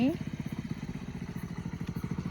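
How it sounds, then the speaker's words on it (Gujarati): A motorcycle approaches along a rural farm path with a steady, rapid chugging engine pulse at moderate volume, while a voice briefly rises over it at the start. "આવી રહ્યા છે બાઈક લઈને"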